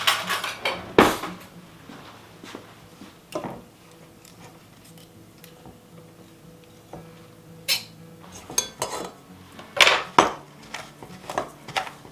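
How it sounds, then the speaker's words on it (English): A pastry blender working butter into a crumbly mixture in a bowl for a sweet potato casserole, heard as intermittent metallic clinks and scrapes against the bowl, clustered at the start and end with quieter stretches between. "I'm going to take my pastry blender and I'm going to mix this all together, breaking up that butter into little bits until this is all crumbly."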